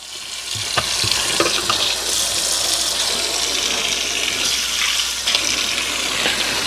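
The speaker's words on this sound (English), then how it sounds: "Fill up the sink with hot water again." Hot water runs steadily from a tap into a sink being filled with dish soap for washing a UNI air filter from a Kawasaki KRX, a constant close splashing rush with a couple of brief knocks.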